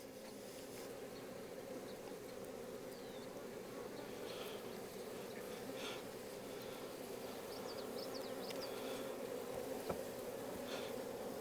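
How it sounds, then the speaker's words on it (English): Honeybees hum in a dense, continuous drone around an opened beehive, steady and close, with a few faint clicks and knocks from the hive work and no talking. "Bees won't be so nice this time."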